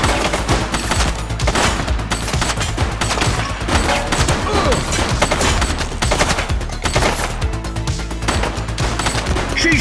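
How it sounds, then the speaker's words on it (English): Sustained rapid automatic gunfire from the video game The Precinct, dense overlapping bursts and shots filling the whole stretch at a loud, steady level. "She's shooting!"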